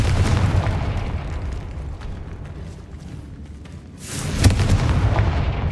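A Confringo blasting spell in the video game Hogwarts Legacy erupts in a loud booming explosion, a rumbling blast that fades, then a sharp second burst with crackling debris, set in a bone-lined archway.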